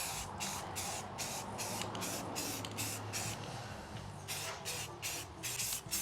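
Spray paint hisses steadily from an aerosol can onto a HasLab Proton Pack, broken by short rhythmic pauses between passes, close and loud with no talking.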